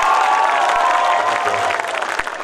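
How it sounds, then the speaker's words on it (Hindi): A crowd claps at a mushaira, an Urdu poetry gathering in Tajpura, Saharanpur: a dense, loud wash of applause that runs continuously and thins slightly toward the end. "एक दफा पूरा मजमा तालियां बजा के मुझे बताया।"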